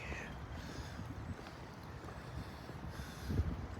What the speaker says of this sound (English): Oh, there goes that wind again.